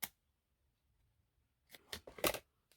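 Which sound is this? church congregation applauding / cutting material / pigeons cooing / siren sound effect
cutting material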